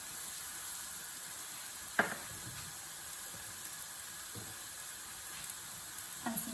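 Onions sizzle and soften in a pan, a steady close frying hiss with a few faint clinks and scrapes of a utensil, no talking.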